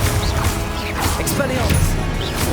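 In Hogwarts Legacy, the Confringo blasting spell lands with short crashing bursts over a busy game soundscape, while a voice calls out spell names.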